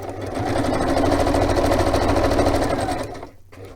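A sewing machine stitches across the top of fabric pieces with a steady, close whirring hum and fast needle rhythm for about three seconds, then stops.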